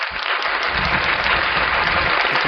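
Sustained audience applause with continuous clapping from a crowd at a Filipino religious gathering, steady and loud throughout with no break.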